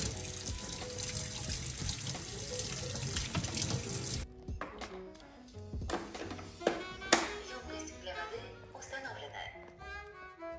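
A kitchen tap runs while a robot vacuum's water tank is filled, a close steady gush that stops abruptly partway, followed by clattering handling of the plastic tank and brief speech.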